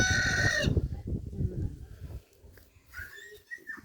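In a village garden, a rooster crows loudly nearby, followed by hens clucking and murmuring softly, with scattered bird calls in the background.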